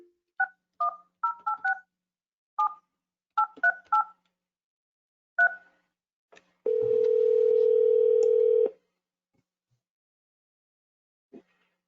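A telephone keypad sends a quick series of touch-tone beeps while a call back is dialed during a public safety meeting, followed by a steady two-second tone, then near silence with a faint click.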